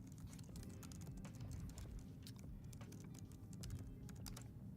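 Soft, quick keystrokes tap on a computer keyboard at close range, an uneven run of light clicks over faint room hiss with no voice.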